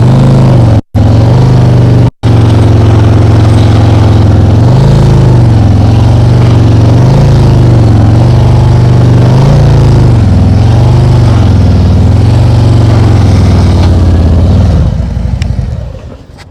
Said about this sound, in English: You hear how high my throttle is?